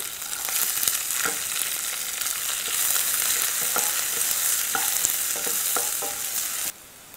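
Onion, green chili, curry leaves and chana dal frying in a pan for kozhukattai, a steady close sizzle with a few scattered stirring clicks, running alone until it cuts off near the end.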